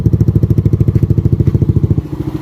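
A Yamaha Aerox scooter engine idling close by, giving a loud, even, rapid chugging pulse of low beats that eases slightly toward the end, with no talking over it.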